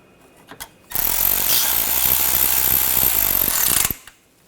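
A power tool tightens screws during an engine water pump replacement on a 2013–2022 Buick Encore 1.4L four-cylinder. One continuous, loud, close ratcheting burst lasts about three seconds and then stops abruptly. No talk is heard.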